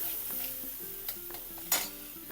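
Coarse vada pav masala with coriander seeds sautés in a pan, a quiet steady sizzle punctuated by several sharp spatula scrapes and clinks against the metal, close up and without speech.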